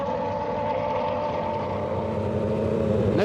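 Formula 1 race car engine revving at around 18,000 RPM, a steady loud buzzing drone with strong harmonics held throughout, rising slightly near the end.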